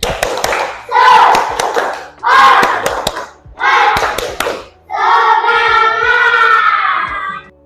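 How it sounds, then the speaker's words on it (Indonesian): A classroom of children performs the tepuk semangat clapping chant, with bursts of rhythmic clapping and shouted chanting in several loud groups, ending in a longer sustained chorus of voices. "kita tepuk semangat dulu. Tepuk semangat!"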